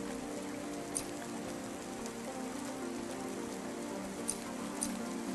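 Steady rain falls in the video game Cloudpunk, a soft continuous hiss of drops with a couple of faint brief taps, no voices present.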